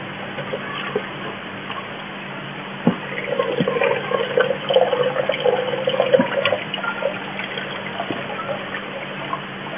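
Liquid is gently poured over the grain bed of a homebrewed double IPA mash, a steady soft watery trickle and splash with a few small knocks, swelling briefly in the middle, heard alone at moderate level.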